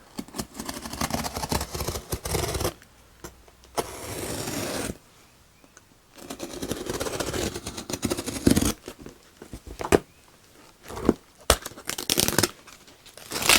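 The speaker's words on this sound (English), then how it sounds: "Let's see if we can cut the shipping label off here." A shipping label is cut off a package up close, giving loud rough bursts of cutting, tearing and crinkling paper and plastic, broken by short silent pauses, with no speech.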